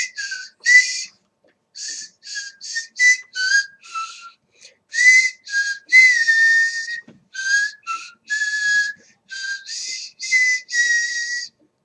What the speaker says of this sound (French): je siffle beaucoup de chansons que je connais